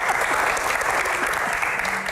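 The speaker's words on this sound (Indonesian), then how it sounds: "Senyum dong, tepuk tangan." A crowd at an Indonesian Q&A session with a deputy labour minister bursts into dense, loud, sustained applause that fills the room without a break.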